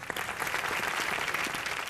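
Studio audience at a Hindi game show bursting into steady, dense applause, a continuous wash of clapping held at an even level throughout with no pauses.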